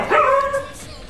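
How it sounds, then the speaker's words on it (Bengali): A dog gives a single close, sharp bark with a short whining tail. "কুকুরগুলো চেঁচাচ্ছে।"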